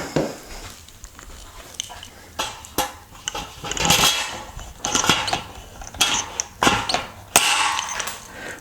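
Metal rivets being pressed into chain links for a DIY automatic poultry waterer, heard as a series of close, sharp metallic clicks and clanks in irregular bursts, with no talking.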